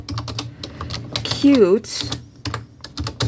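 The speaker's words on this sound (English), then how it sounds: "I always type with my right hand." One-handed typing on a computer keyboard makes quick, irregular clicking throughout, close by and clear, interrupted by a short burst of speech in the middle.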